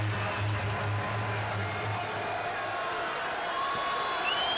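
Basketball arena crowd at a college game cheering and applauding in a steady, dense roar that fills the whole stretch, with a low hum underneath and no break in the noise.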